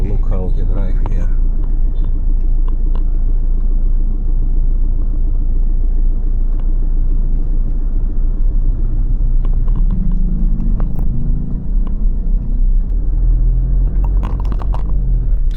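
Car driving along Fields Avenue in Angeles City, heard as a steady loud low engine and road rumble from inside the vehicle, with a voice talking over it.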